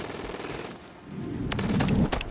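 Call of Duty Modern Warfare 3 gunfire in a team deathmatch, a rapid burst of close automatic shots rattling loudly after a low rumbling lead-in.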